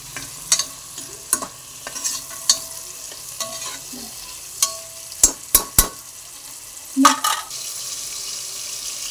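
A spoon stirs onion and tomato frying in a pan, sounding as a run of sharp scrapes and clinks that recur every second or so over a soft, steady sizzle, close and moderately loud, with no one talking.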